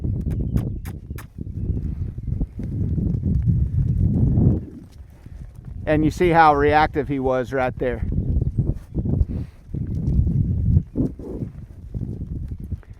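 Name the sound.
horse trotting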